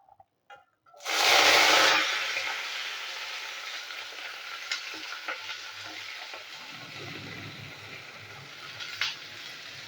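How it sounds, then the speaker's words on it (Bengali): Yardlong beans hit hot mustard oil in a wok with a sudden loud sizzle that settles into a steady frying hiss, broken by a few soft stirring scrapes. "বরবটিগুলো একটু ভেজে নেবো"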